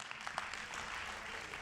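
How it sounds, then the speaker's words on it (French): An audience at a plenary session claps with a steady, fairly faint patter of many hands that carries on throughout. "et vous avez raison de l'applaudir"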